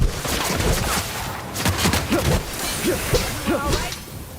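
Gunfire in The Outer Worlds video game, a dense run of loud, close shots and impacts in rapid bursts over a busy noisy backdrop, with faint voices mixed in.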